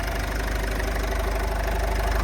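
A 2015 Renault Koleos with a 2.0 dCi diesel engine and automatic gearbox idles steadily, a close, even diesel clatter with a low rumble and no talk over it.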